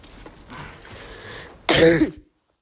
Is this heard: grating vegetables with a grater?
no